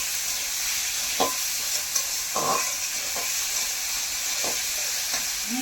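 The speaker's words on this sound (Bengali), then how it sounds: "এইভাবে কিছুক্ষণ আলুগুলো ভেজে নেব।" Potatoes fry over low heat in a pan with a steady close sizzle, while a utensil scrapes and stirs them in several separate strokes spread across the clip, with no talking.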